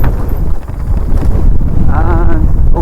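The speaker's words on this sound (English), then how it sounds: "a trifle windy" Strong wind buffets the microphone on a mountain bike trail at Glentress, a steady loud roar throughout with a brief whistling tone near the end.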